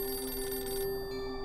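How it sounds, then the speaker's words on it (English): A telephone bell rings steadily with a sustained metallic trill that cuts off partway through, leaving a faint hum behind. "when the phone rang."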